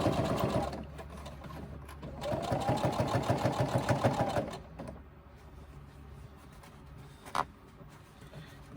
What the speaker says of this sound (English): we need to be able to stitch the lining and the outers together like this